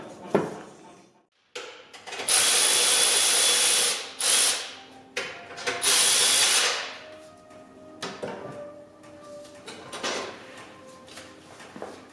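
Power tool driving and tightening a nut on a Maxpeedingrods coilover during a spring install, several loud whirring bursts separated by short pauses and lighter mechanical clatter, close up with no talking.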